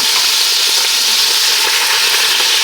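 Meatballs browning in a pot for an old-fashioned Italian spaghetti sauce give a loud, steady frying sizzle, a dense continuous hiss with no talking.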